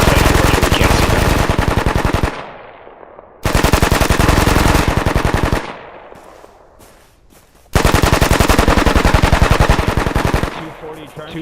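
Machine gun fire from a weapons squad in a tactical military video game, three long loud sustained bursts of rapid automatic shots separated by brief pauses.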